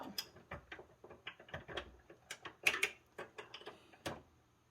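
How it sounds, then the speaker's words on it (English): Dillon 550 reloading press die being tightened with a wrench, giving a close run of sharp metallic clicks and ratcheting taps in an uneven rhythm, heard alone. "we're going to take the wrench and then we're going to make sure that this is as tight as this will go"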